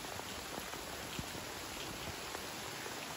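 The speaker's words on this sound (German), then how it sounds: "Es regnet." Steady rain patters on surfaces in a continuous wash, with faint individual drops ticking throughout, quiet and without any voices.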